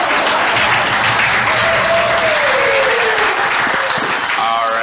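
An outdoor audience at an Indigenous Peoples' Day gathering claps steadily, a dense sustained wash of applause with some voices mixed in.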